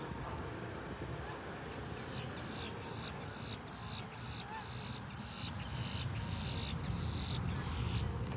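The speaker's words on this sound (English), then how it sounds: "That's a bird up there making a noise." A steady, rhythmic chirping call repeats high overhead, pulsing at regular intervals above a rumbling outdoor background of wind and distant traffic.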